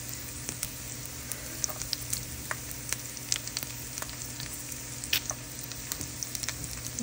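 Bacon sizzles and crackles in a hot pan, a dense, steady frying hiss peppered with sharp pops, close and moderately loud with no talking.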